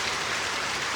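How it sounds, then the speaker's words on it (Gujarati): Steady rain falling in a farming village at sowing time, a dense even hiss of drops with no voices. "વરસાદ આવેલો છે"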